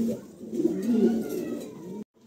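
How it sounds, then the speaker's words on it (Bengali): Pigeons at a pigeon sale give a close, throaty cooing that rises and falls for about two seconds and then stops abruptly, with no talk. "চমৎকার এক জোড়া কবুতর মাশাআল্লাহ দেখার মতন"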